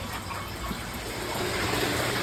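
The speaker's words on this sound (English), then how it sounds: "Tank is filling up." Water gushes steadily from a hose into a fish-room aquarium tank, a continuous close rushing wash with no breaks, growing slightly louder toward the end.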